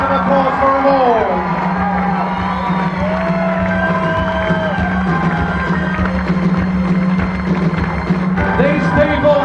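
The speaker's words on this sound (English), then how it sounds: "A big round of applause for them all." A loud crowd at a 6 o'clock rock show cheers and whoops, with voices shouting and bellowing over a continuous bed of noise. Clear tonal sounds and sustained voices run through the whole stretch.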